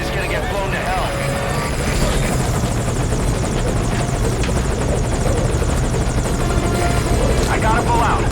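Video game aircraft in Metal Gear Solid V: Ground Zeroes, with a loud, continuous helicopter rotor drone and engine whine under game effects throughout.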